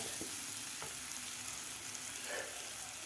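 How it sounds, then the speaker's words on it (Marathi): Dry spices sauté in a pan for a Maharashtrian masoor dal amti, a faint continuous frying sizzle with a few light stirring taps. "आणखीन एक ते दीड मिनिट आपल्याला परतून घ्यायचं आहे सुके मसाले घातल्यानंतर"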